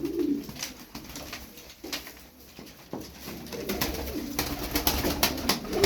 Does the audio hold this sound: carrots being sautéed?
no